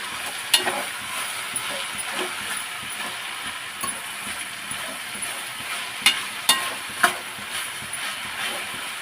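Soft scraping and clinking of a spoon stirring ridge gourd curry with salt and turmeric in a frying pan over a low sizzle, with a few sharper knocks near the end.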